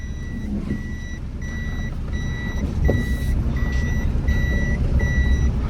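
Automatic car in Zanzibar, Tanzania pulling away, its reversing alarm giving evenly spaced beeps about twice a second over a low engine rumble and road noise, fairly close, with no talking.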